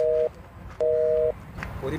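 After a phone call is cut off, the busy tone sounds in two steady electronic beeps with a pause between, close and clear, while faint background noise and a brief voice follow.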